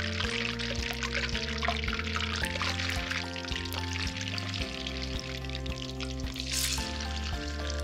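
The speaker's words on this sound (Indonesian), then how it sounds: "Sekarang goreng pula tauhu." Tofu frying in hot oil in a pan, a steady close bubbling sizzle that holds throughout with no talk over it.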